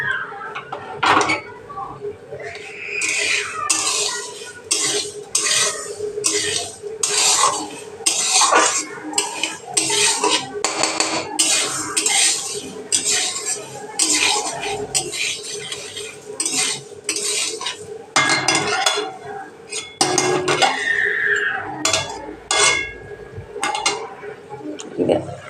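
Moong dal roasting dry in a pan, stirred with a metal spoon that scrapes and clinks against the pan in frequent bursts throughout, close and fairly loud, with a steady low hum underneath.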